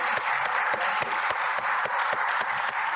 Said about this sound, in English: There's a round of applause for the ambassador.